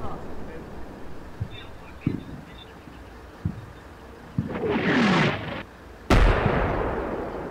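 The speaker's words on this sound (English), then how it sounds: "I just spotted a Syrian spotting round landing by my position" A Syrian artillery spotting round lands near a position in the wargame Combat Mission Shock Force, heard as a sharp blast with a rushing burst after scattered distant thuds, under ongoing battle noise.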